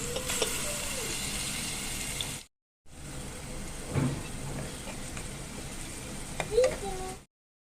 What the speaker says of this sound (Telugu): మూకుడులో నూనె, నెయ్యి వేసి వేడైన తర్వాత మనం ముందుగా పేస్ట్ చేసుకున్న ఎర్రగడ్డ, అల్లం, వెల్లుల్లి పేస్ట్ వేయాలి